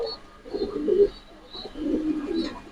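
Pigeons at a pigeon farm in Mirpur coo in soft, throaty bursts, two or three close phrases with brief pauses between, near and alone without any voices.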